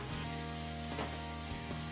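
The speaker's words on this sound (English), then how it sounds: "we're going to fry up our onions" Onions fry in melted butter in a pan for cream of tomato soup, giving a steady, close sizzle that runs throughout with no voices.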